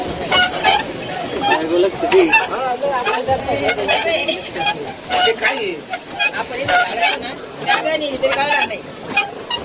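Geese or ducks honk near a bridge, giving a busy string of loud, nasal calls and cackles that come in quick, overlapping bursts over a low outdoor background.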